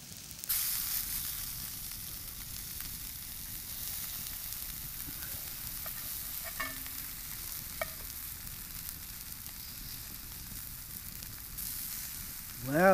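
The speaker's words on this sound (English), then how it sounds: "Cooking up some liver." Liver frying in a pan over a campfire on a cold desert night in Utah, a steady close sizzle and crackle that holds evenly throughout, with a few faint clinks and no talking.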